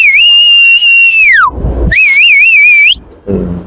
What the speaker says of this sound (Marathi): लगेच शिट्टी.